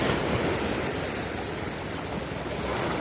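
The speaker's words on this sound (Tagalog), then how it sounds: "Lukas yung alon" Strong ocean waves at sea during fishing in a strong current, a loud continuous wash of surf and water noise with wind buffeting the microphone, no voices.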